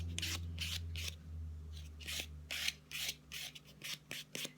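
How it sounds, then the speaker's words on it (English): A nail buffer rubbed quickly across a fingernail surface, a series of short close rasping strokes in an uneven rhythm, faint and alone. "you want a quick buff in a downward motion to smooth over the surface of your nail bed"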